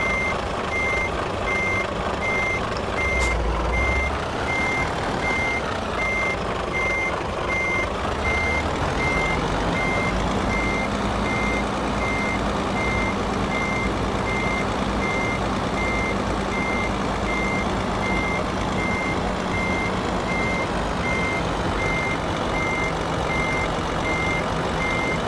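Steady electronic reversing beeps from a truck in Euro Truck Simulator 2, an evenly spaced, repeating tone over a loud engine rumble and a hiss of air brakes near the start, with no talking.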